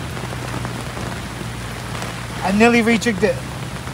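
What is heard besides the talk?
heavy rain falling on a tarp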